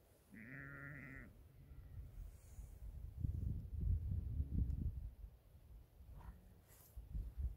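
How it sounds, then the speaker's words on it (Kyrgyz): Sheep from a shepherd's flock let out one clear, wavering bleat early on, followed by a low, gusty outdoor rumble and a fainter animal call later. "Мына койлор жүрөт."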